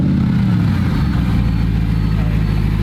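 A Mercedes SLS Black Series engine starts and rumbles loudly and steadily close by, its pitch climbing briefly at the start before settling into a heavy idle.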